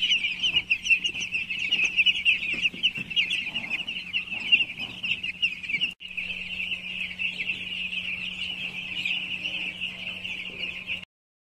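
Poultry on a farm keep up a dense chorus of clucking and high-pitched cheeping, continuous and fairly close, with a steady low hum beneath and a brief break midway.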